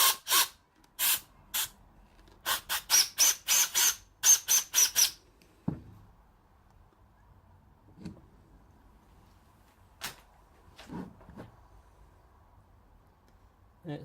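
Compressed air from an air line blasts into a brake caliper on a classic Mini, a series of sharp loud hissing bursts in quick succession, followed by quieter knocks and clunks and scattered faint sounds.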